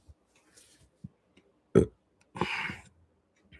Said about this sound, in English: I'm just burping a lot.